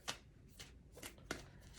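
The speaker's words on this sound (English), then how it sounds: "I don't love shuffling it this way because they kind of stick together." Thick-stocked black tarot cards that tend to stick and clump are shuffled in a few soft, brief papery slides, close up and quiet, without talk.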